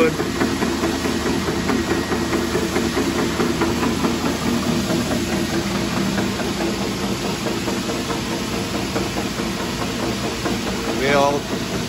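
An Erco 35C flanger machine with two-speed 800 and 1700 RPM motors runs steadily, a continuous mid-to-low mechanical hum with a faint rhythmic knock, close and fairly loud throughout.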